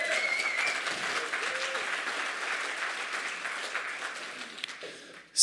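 A round of applause from a conference audience, a dense wash of clapping that starts strong and gradually fades over several seconds, with a few faint voices underneath.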